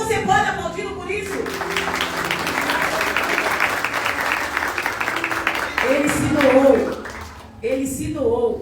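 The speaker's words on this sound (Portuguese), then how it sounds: "Será que você pode aplaudir por isso?" A church congregation applauds during a Christmas sermon, a dense, sustained burst of clapping that fills the room, with the preacher's voice speaking before and again near the end.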